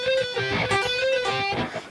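Electric guitar playing a quick one-bar tapping lick from a guitar solo, a rapid run of bright, ringing legato notes at moderate volume, played alone without talk.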